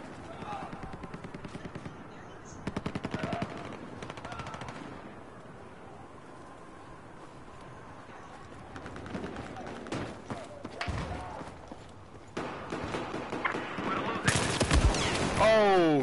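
F2000 rifle gunfire in a video game comes as several rapid automatic bursts separated by quieter gaps, sharp and fairly close, with a voice talking between the shots.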